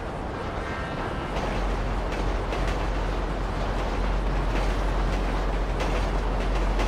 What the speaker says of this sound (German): Oh Gott, es kommt ein Zug.